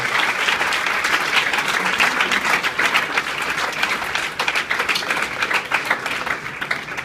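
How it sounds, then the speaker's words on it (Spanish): A church congregation applauding, a loud, sustained burst of many hands clapping that continues steadily throughout, with no talking over it. "Un aplauso fuerte para el Señor Jesús"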